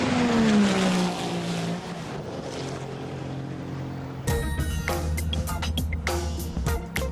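A Porsche 911 SPR1 bi-turbo sports car runs at the Nardo high-speed track, its engine note sliding downward at first, then a louder, rough, broadband roar with rapid pulsing bursts as it passes close.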